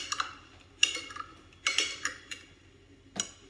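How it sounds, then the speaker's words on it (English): A utensil stirs water in a container, giving a few separate clinks and scrapes spaced over a few seconds, close and fairly quiet with no talking. "And give this a little bit of a stir as well."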